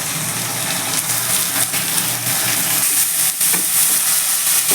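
Washed rice and lentils fry with whole spices for vegetarian khichuri, a loud, steady sizzle close by, broken by a few stirring scrapes.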